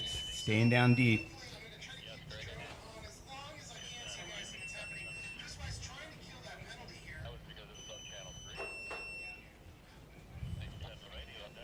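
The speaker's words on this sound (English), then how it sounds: "If you can hear this in the background, that beeping is angry. It's saying, get back in." A short, loud electronic beep sounds near the start, followed by fainter beeping under the continuous voices of race commentators. The alarm at the pier is signalling boats to return during a sailing match-race event.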